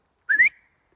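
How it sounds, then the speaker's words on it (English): A person gives a single short, rising whistle to call a dog, clear and fairly close, lasting about a quarter second and then fading out into silence. "I did a whistle and he came straight away."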